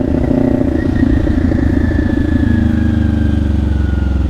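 A motorcycle rides through city streets at night, its engine a loud, close, continuous rumble with steady pulsing throb and a faint whining tone sliding slowly downward, with no talking.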